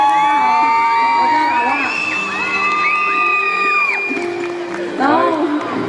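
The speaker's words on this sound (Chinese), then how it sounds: "掌声给她鼓励一下" At the outdoor National Indigenous Games in Banqiao, a concert crowd cheers loudly for an indigenous band's female lead singer, with high whoops, whistles and yells layered over one another.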